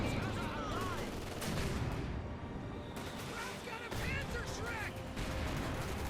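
Anti-tank guns and a Panther tank trade fire in a Company of Heroes 2 battle, with dense, repeated booming shots and cracks over a constant rumble of combat, with faint tonal chirps layered on top.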